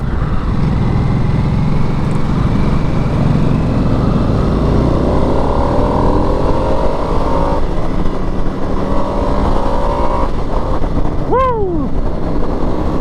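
A 2022 Harley-Davidson Sportster Nightster motorcycle roars steadily on the road with heavy wind buffeting, its engine note climbing under acceleration, loud and close throughout.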